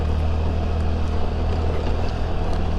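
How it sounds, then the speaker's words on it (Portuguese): Honda Elite 125 scooter (2025) riding over cobblestone paving, a steady loud engine drone with continuous low rumble and rough road noise plus wind buffeting throughout, no talk. "Vamos ver o conforto dela no paralelepípedo."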